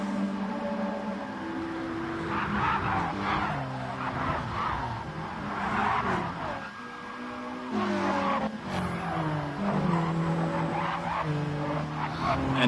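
A WTCC-style touring race car in a racing video game at Interlagos brakes hard and late with a brief tire squeal, set against a steady, layered engine drone from a close pack of cars.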